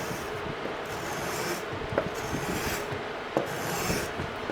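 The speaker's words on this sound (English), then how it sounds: "it's a lot of work with the rasp, blending everything in." A wood rasp works steadily across a carved guitar body, making a continuous coarse scraping with a few sharper strokes standing out. The rasping is close and fairly loud, with no voices.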